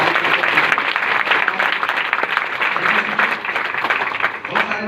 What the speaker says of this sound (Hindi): सबके सम्मान के लिए एक जबरदस्त ताली होनी चाहिए